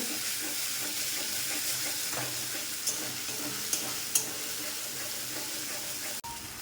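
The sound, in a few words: frying and stirring in pan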